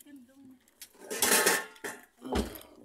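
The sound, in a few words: cooking pots being handled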